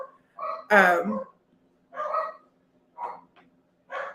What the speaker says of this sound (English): my dog is barking in the other